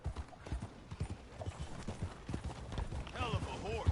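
Horse hooves clip-clop at a steady walking rhythm in Red Dead Redemption, with someone speaking over them and a short whinny-like sound near the end.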